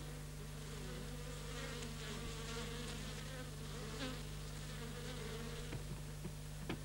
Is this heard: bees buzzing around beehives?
yes